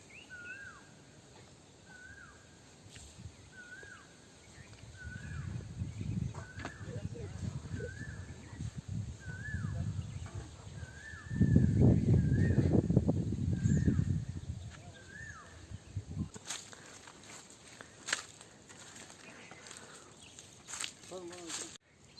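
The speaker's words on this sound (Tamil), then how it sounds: "குயில் கத்துற சத்தம்லாம் கேட்குது பாருங்கள்." An Asian koel calls repeatedly in a forest, a regular series of rising whistled notes spaced about a second apart, mid-distance, with rustling and footsteps growing louder beneath it in the middle.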